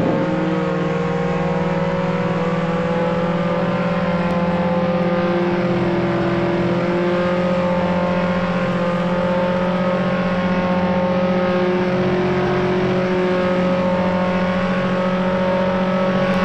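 A sports car's engine in the Roblox Jailbreak game, upgraded with a level 5 engine, holding a steady loud droning hum at constant pitch throughout, with no talk.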